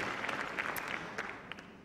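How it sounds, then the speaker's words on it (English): Faint, distant audience applause at the Miss Ohio 2010 pageant, a brief scatter of clapping heard low in the mix for under two seconds. "Let's give him a round of applause."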